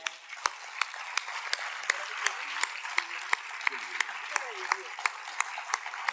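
Audience applause at the Manik Swar Mahotsav classical music festival, a steady patter of many hands at a moderate distance with sharper individual claps popping out and a faint voice underneath.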